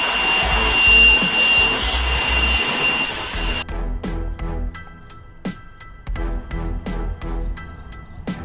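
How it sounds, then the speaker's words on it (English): Car parts for an LS-swapped S10 Blazer scuffed with a Scotch-Brite pad: a steady abrasive rubbing wash that gives way to a run of short, sharp scraping strokes, close and fairly loud, with no talking. "use a little bit of Scotch-Brite to scuff them up"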